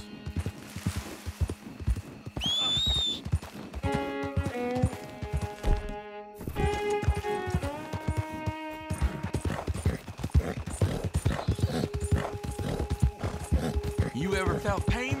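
Horse sounds in the video game Red Dead Redemption 2, with hoof clops and a brief whinny-like call mixed among musical tones and a speaking voice, moderately loud and busy.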